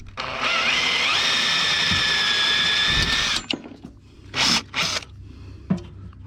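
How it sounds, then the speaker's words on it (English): A power drill bores out a curtain rod holder used as a lever mount on a Briggs and Stratton ride-on lawn mower, whining steadily and loud for about three seconds, then stopping, followed by a few short mechanical clicks and knocks. "So I'm going to drill that out too."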